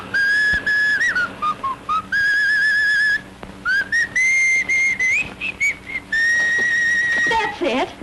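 A man whistles softly, half to himself, a wavering tune of sustained and gliding notes with short pauses, close and clear with no talk over it.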